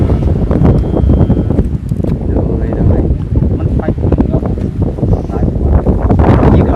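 Strong, steady wind roars and buffets the microphone throughout, with gusts rustling around it in a continuous, loud wash of noise.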